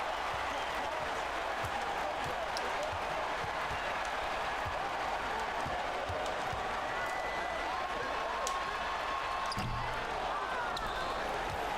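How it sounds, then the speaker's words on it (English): Arena crowd noise from the NBA 2K basketball video game during a 1980s-era Bulls versus Lakers matchup, a steady loud crowd roar with ball bounces and scattered claps, with commentary voices underneath. "Listen to this disapproving crowd."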